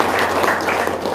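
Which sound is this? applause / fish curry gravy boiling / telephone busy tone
applause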